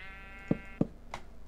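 A goat in Minecraft gives a single drawn-out bleat, faint and followed by a few short knocking clicks, with no talking over it.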